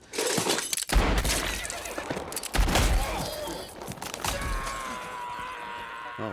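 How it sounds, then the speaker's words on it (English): A Django Unchained shootout scene with gunfire and bullet-hit effects: sharp cracks and thumping impacts near one and two and a half seconds, debris and crashing between, then a fading ringing tone, with voices mixed in. "the way that we choreograph the bullet hits, the effects guys put so much work into the hits"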